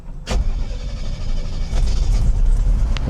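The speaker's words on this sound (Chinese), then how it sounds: "来大哥来发动引擎" A Mercedes-Benz C107 280 SLC with a broken middle and rear exhaust pipe and the air conditioning on starts up, a brief crank giving way to a loud, rough, steady idle heard close by.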